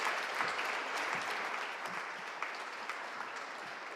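An audience at an architecture award ceremony claps steadily, a dense even patter of many hands held at moderate volume, heard from some distance in a hall.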